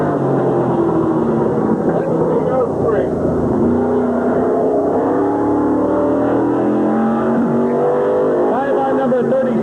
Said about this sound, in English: Drives Tony Diano's race car.